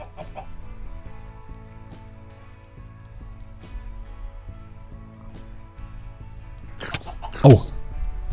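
Minecraft chickens cluck in short bursts over steady game music, with one louder cluck near the end.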